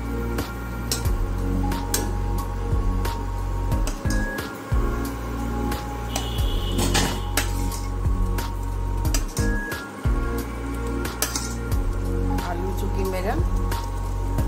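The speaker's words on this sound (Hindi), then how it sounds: "अब इसमें हम अपने जो आलू फ्राई करके रखे हुए हैं उसे डालेंगे" Fried potatoes go into bubbling curry gravy in a pan, a continuous crackling sizzle with scattered clinks and stirring scrapes under a voice speaking throughout.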